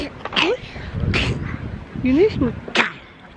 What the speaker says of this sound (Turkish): Güneş mi hapşırttı seni?